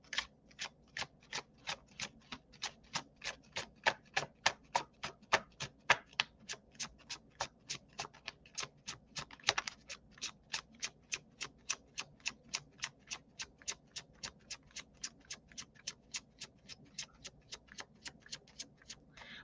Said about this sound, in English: I am on a shuffling streak